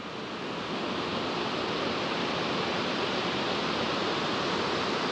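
Water plunging down a forest waterfall along the Charmadi ghat route, a constant broadband roar, loud and unbroken from start to finish with no voices.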